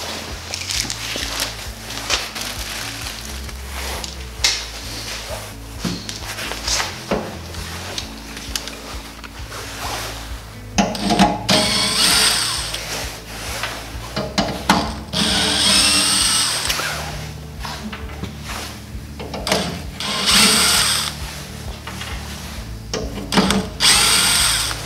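A power drill and hand tools work on a Mr. Heater heater during a natural gas to propane conversion, loosening a tube and swapping orifices: bursts of close whirring, ratcheting clicks and metallic clatter throughout.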